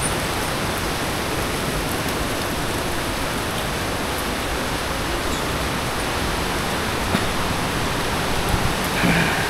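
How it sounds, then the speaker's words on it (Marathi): Waterfall at Dhootpapeshwar temple in Rajapur, Konkan, a steady, dense rush of falling water that holds evenly from start to finish with no voices. "हे बघा, हा जो धबधबा आहे तुम्ही त्या शॉर्ट्समध्ये बघितला तो हा आहे"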